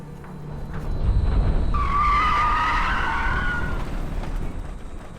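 A car skids through a turn, with a loud tire squeal rising over engine rumble and fading over several seconds, with no voices.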